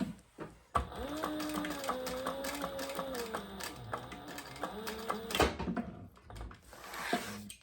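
A sewing machine stitches a leather architect wallet in a steady rapid run of mechanical clatter lasting several seconds, then stops with a few clicks and handling knocks.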